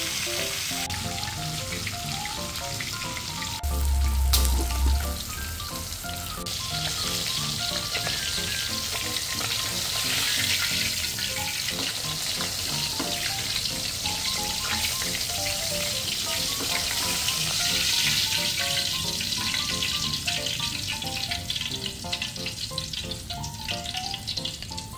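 Tilapia fries in oil in a pan, a continuous loud sizzle and crackle that runs unbroken for the whole stretch, with a brief low thump near the start and no voices.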